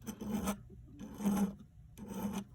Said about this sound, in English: So we'll go at them with a little file and clean them up like I did the other one.